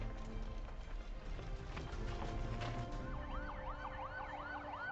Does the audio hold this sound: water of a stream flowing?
no